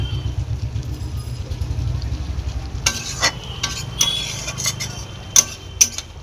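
Spice masala for mutton curry is fried down in oil until the oil separates. A low hum comes first, then sharp, repeated spatula scrapes against the pan over a soft sizzle.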